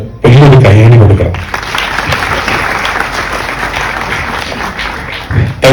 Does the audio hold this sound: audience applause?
yes